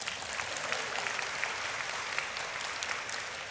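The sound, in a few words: audience applause at a graduation ceremony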